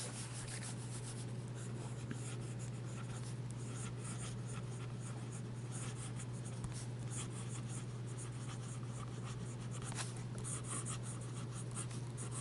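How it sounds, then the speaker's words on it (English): A fountain pen nib, a Hero 616 or Parker Victor, writes on paper with a continuous soft scratching and rubbing, close and quiet, over a low steady hum. "And we'll do some writing."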